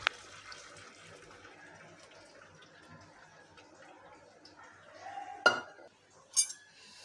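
Cooked chana dal is stirred in a pot in a quiet kitchen, with soft scraping followed near the end by two sharp clinks of a utensil against the metal.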